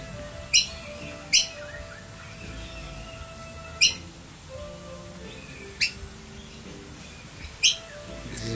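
Sharp, bright bird calls ring out five times at uneven intervals over a quiet outdoor background, each call brief and fairly close, with no talking.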